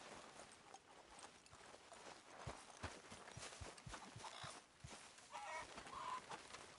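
Chickens cluck in a town setting in the video game Red Dead Redemption 2, soft irregular clucks mixed with clip-clopping hooves and low ambient noise throughout.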